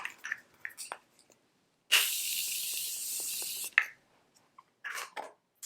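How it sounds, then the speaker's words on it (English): A face mist spray bottle fires one continuous hissing burst of nearly two seconds, close to the mic, with soft handling clicks and small movements before and after. "let me spray my face"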